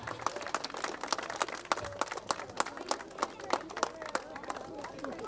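A small group claps repeatedly in uneven, sharp bursts, fairly close but quiet, while people chatter and murmur underneath.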